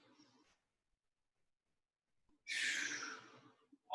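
Deep breathing during a hip stretch in a home boot-camp workout: one soft exhale, a long quiet pause, then a loud, close, drawn-out breath out.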